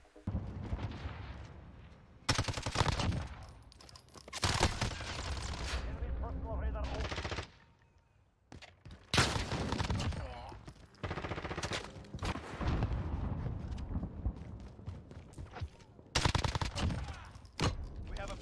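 Rapid SMG bursts crack through a Call of Duty Mobile match, loud and close, coming in repeated volleys with brief pauses between them.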